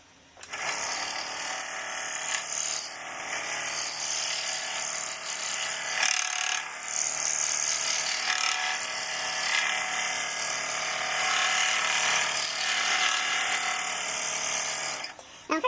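A saw blade whines steadily as it cuts a dragon puzzle from 3/4 inch hard oak, a loud, continuous buzzing drone close by with slight shifts in pitch as it works through turns.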